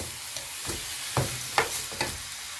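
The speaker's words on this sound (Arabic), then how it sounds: "نحط الزبده يا حبايبي اهو، عشان بس نشوح الرز تشويحه كده" Rice sautéed in melting butter in a pan, a steady soft sizzle with a few stirring scrapes and spoon knocks, close up and without talk.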